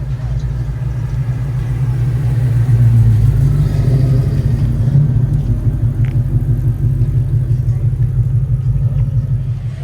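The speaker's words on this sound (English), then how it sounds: "I got a nice little coupe coming in." A coupe rolling in at an open house car event, its engine giving a deep, steady rumble that swells slightly as it draws near, loud and close with no clear talk.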